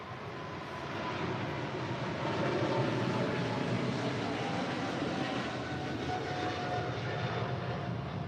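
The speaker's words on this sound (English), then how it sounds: "That is China Southern Cargo 2540 departing to Guangzhou on a 777 freighter." A China Southern Cargo Boeing 777 freighter departs LAX for Guangzhou, its jet engines a broad, steady roar that swells after the first second and holds at moderate distance, with no talking.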